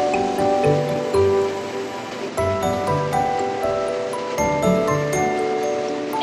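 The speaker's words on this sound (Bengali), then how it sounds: "এই বাটিটা ধুয়ে একটু সামান্য জল দিয়ে দিলাম।" Water rinsed from a bowl is poured into a cooking pan of bottle gourd greens being made into a Bengali chorchori, a steady, loud rushing splash with a few brief surges and no talk.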